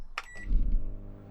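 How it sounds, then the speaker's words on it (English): A microwave oven running on inverter power gives a couple of short electronic beeps at the start, followed by a low hum as it settles. "I have a microwave."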